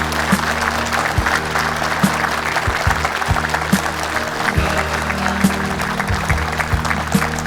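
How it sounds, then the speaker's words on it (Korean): An audience in a hall claps steadily to welcome the provincial governor onto the stage at a town-hall event. The applause is sustained and fairly loud, with some sharp individual claps standing out, and a few voices are faintly audible. "큰 박수로 맞아주시기 바랍니다."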